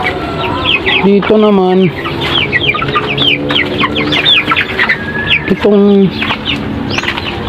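Hens cluck in repeated bursts on a farm, with a few louder squawking calls standing out near the mic while a person talks over the birds.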